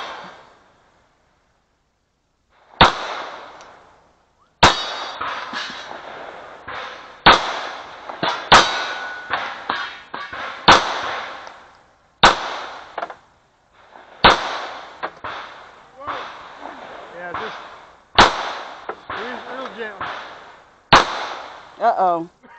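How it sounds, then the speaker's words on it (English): Gunshots at a shooting match ring out as sharp single cracks every second or two, each followed by metallic clangs of steel targets being hit, loud and close with quiet gaps between. "then start shooting with your strong hand"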